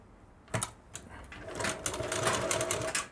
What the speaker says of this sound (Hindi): और ये सिलाई कैसे लगानी है, आइए चलते हैं मशीन पर।